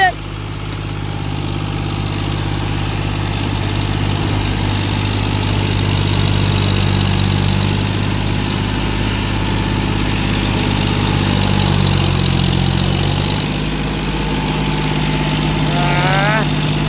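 A track harvester's engine running steadily with a tractor nearby during rice loading, a loud, continuous low mechanical drone with a harmonic rumble that holds for the whole stretch and shifts slightly near the end, with voices faintly present.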